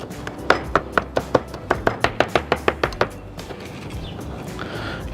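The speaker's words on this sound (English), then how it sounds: "So we're just gonna rough chop." Knife rough chopping a handful of cilantro on a cutting board, about a dozen crisp evenly spaced thuds over a few seconds before falling quiet.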